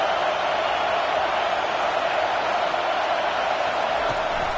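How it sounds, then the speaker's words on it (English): A stadium crowd at a college football game roars steadily as fans make noise to push the defense toward a red zone stop, a dense, continuous wash of distant cheering. "And here comes the noise. This crowd is trying to inspire this defense to make a big red zone stop."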